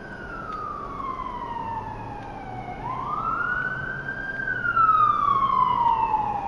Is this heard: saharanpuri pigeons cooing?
no